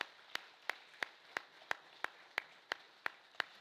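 Faint, evenly spaced claps repeat about three times per second in a steady rhythm during a Sunday church service, sounding distant and thin.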